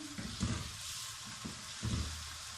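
Soy sauce hitting a pan of cooking Lahori chickpea masala, a faint steady sizzle with a couple of louder bursts as it is stirred, no talking.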